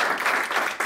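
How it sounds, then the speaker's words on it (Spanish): Audience at an academic seminar session clapping together, a dense, even burst of applause lasting under a second with no voices over it. "por favor, un aplauso"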